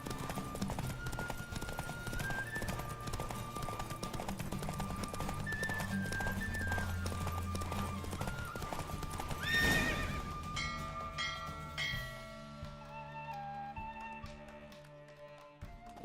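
A horse gallops with rapid clip-clop hoofbeats and a neigh in The Witcher 3: Wild Hunt, the steady running rhythm continuing under game music before slowing and fading near the end.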